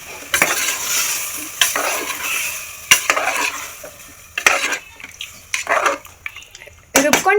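Mutton fries in a pan for green biryani, sizzling loudly and close while a spoon scrapes and stirs in repeated bursts, with clanks against the pan and a person talking at times.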